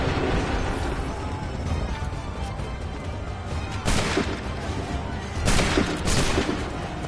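A musket volley in Assassin's Creed III: dense, noisy battlefield din that swells into a couple of broad crackling bursts of massed gunfire, heavy and reverberant rather than crisp individual shots.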